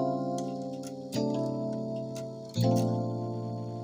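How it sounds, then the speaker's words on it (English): Three sustained harmonic chords sound in a row, each struck note ringing clearly and decaying. Together they form mysterious passing notes leading into the four chord. "Now those are the mysterious passing notes to your 4."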